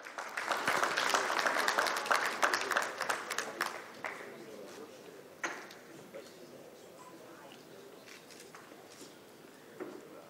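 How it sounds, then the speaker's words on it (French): Audience applause at an insurance conference panel ceremony: a burst of clapping that starts loud and dense, thins out after a few seconds and trails into scattered claps and quiet room noise. "Voilà, sous vos applaudissements."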